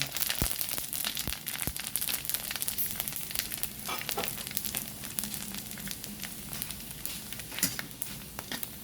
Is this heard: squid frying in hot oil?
yes